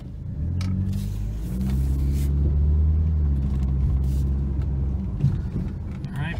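A 1999 Nissan Altima sold for parts or repair drives a short circuit: a steady low engine rumble with gentle rises in revs, heard from inside, with a brief knock near the end.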